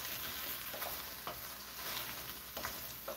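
Eggplant and okra pinakbet with sautéed shrimp being stirred in a pan, a steady sizzle with a few soft scraping strokes of the spoon spread across the stretch, no voices.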